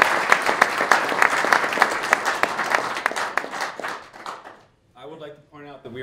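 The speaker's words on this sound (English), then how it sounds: "Give a round of applause." An audience at a product unveiling event applauds to welcome a guest, a dense burst of close clapping that fades out after about four seconds, followed by someone speaking.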